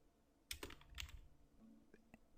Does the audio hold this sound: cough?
no